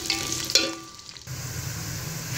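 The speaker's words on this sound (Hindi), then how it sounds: "इसमें मैं अनियन डाल दूँगी कटी हुई और इसे अच्छी तरह फ्राई कर लूँगी लाइट ब्राउन होने तक" Chopped onions hit hot oil with a close, steady sizzle and a couple of sharp clatters at the start, then settle into a continuous even frying hiss.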